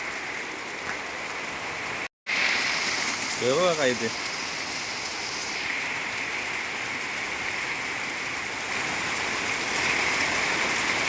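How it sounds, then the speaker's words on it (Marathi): A heavy June monsoon downpour makes a constant loud rushing wash of water, with a brief spoken phrase near the start and a short break in the sound. "जून महिन्यात लागतो असं पाऊस लागायला लागलाय."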